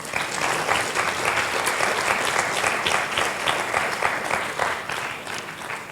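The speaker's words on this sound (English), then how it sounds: "So a big round of applause." A literature festival audience in Indore applauds a guest with a dense, steady round of clapping that holds at an even loudness for the whole stretch, with no talk over it.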